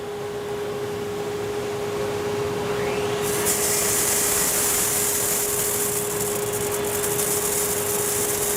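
Artisan X e coffee roaster with its air fan blowing to establish loft, a steady rushing whoosh with a constant tonal hum that gets louder and brighter partway through and then holds.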